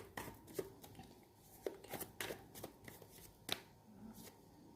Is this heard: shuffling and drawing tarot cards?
yes